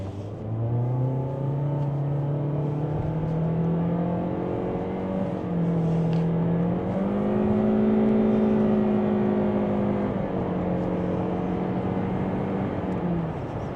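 Toyota Corolla Flame X-Pack hybrid with a naturally aspirated engine accelerating hard from a standstill to 100 km/h, its steady engine drone rising in pitch with gear-change dips, loud and continuous from inside the cabin.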